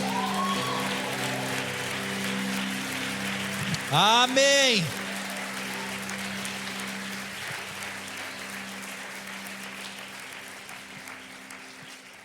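Congregation applauding at a church service, a steady broadband clapping wash like rain that runs through the whole stretch, with a voice briefly calling out over it.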